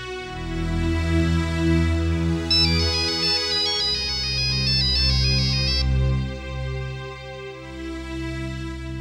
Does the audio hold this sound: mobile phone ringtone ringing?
yes